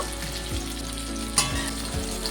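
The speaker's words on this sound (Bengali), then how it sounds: "বেগুনটাকে ভেজে নেব।" Brinjal (eggplant) slices frying in oil in a Bengali kitchen, a steady close sizzle with a few soft bubbling bursts and brief clinks, with no talk.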